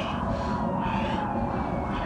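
An ambulance and police sirens wail together steadily and loudly, blending into a continuous dense drone with no voices heard.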